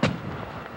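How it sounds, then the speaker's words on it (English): A hunter's shotgun fires at a fleeing cottontail rabbit outdoors, a single sharp, loud report at the very start that quickly decays into a short rumbling tail. "Well, it was a good shot,"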